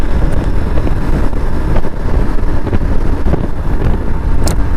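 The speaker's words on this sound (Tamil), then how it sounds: "உங்களுக்கு ஹெல்மெட்டுக்குள்ளார அந்த விண்டோட பிளாஸ்ட் வந்து நல்லாவே தெரியும்" Wind blasts loudly inside a helmet while riding a Honda CB200X motorcycle on a highway, a constant heavy roaring buffet close to the ear with engine rumble underneath.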